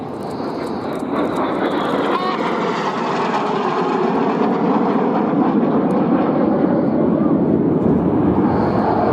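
RAF Red Arrows jets flying a display pass at an air show, with a loud, building jet roar that sweeps overhead and holds strong, under an announcer's commentary.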